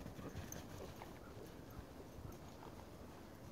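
An eight-year-old, 16-hand Appaloosa horse moves toward the listener through snow, its hooves giving soft, muffled, rhythmic thuds that stay faint against a quiet outdoor background.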